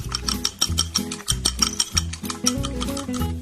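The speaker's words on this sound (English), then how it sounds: "we need to beat some eggs" Eggs beaten in a bowl for tomato scrambled eggs, a fast, even rhythm of clicking strokes against the bowl, close and steady throughout with no voices.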